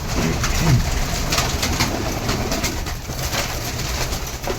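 Pigeons kept in a loft cooing steadily, a mix of homing pigeons and other breeds, with soft low coos repeating close by over a constant background hum.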